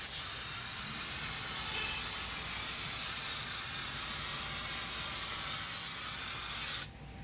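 Spray adhesive being applied onto foam, a continuous loud hiss from the nozzle lasting several seconds before cutting off abruptly near the end.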